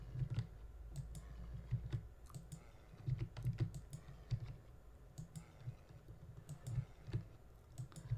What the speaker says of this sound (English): Just keep right clicking and eventually